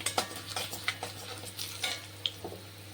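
Spices and asafoetida being sautéed in a pan for a Chettinad potato masala, with a steady low sizzle broken by repeated scraping stir strokes and light utensil clicks, close and without talk.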